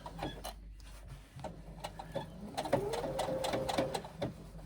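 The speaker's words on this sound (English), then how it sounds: "I'm sewing at 3/8 of an inch." A sewing machine stitches a wristlet seam at a 3/8 inch allowance, with a quiet, rapid mechanical chatter that starts and stops, then runs steadily with a faint whirring hum, close by and without talking.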